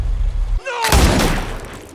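A single loud gunshot in a film scene, a sharp booming blast after a brief quiet moment, followed by a rumbling decay, close and dominant.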